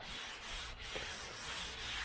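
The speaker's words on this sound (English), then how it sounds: "So I'm gonna sand the rest of this" Sandpaper of 80 grit rubs rust off the body of a 1978 Chevrolet Nova V8 hot rod. The rapid back-and-forth scrubbing is steady and continuous, close but fairly quiet.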